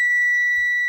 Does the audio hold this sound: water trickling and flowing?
no